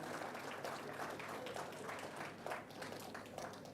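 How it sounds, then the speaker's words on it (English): An audience at a convocation ceremony claps in a faint, distant, steady patter of many hands that carries evenly through the whole stretch. "Your applause tells me that his visit was worth it"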